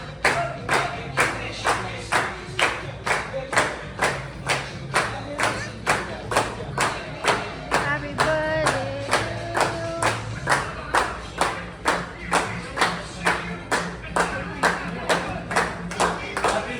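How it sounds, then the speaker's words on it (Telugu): Restaurant staff clap steadily together for a birthday celebration, a regular rhythmic burst of hand claps running throughout, with voices talking and singing faintly underneath. "వెనక నిల్చొని క్లాప్స్ అయితే కొడుతున్నారు"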